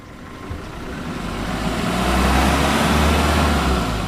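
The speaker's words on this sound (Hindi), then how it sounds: "अब इसका थ्रॉटल देते हैं, अब इसका साउंड सुनते हैं कि बोनट बंद करने में इसका साउंड कैसा आता है।" A Maruti Swift Dzire V3 VXI petrol car engine revving with the bonnet closed, a steady low mechanical drone that swells louder midway and holds, close by with no talking.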